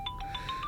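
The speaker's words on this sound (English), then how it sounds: "That's my phone going crazy" A mobile phone rings in short repeated electronic tone bursts, fairly loud and steady, with no talk over it.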